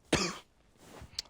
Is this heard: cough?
yes